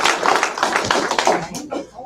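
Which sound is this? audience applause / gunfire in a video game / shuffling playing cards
audience applause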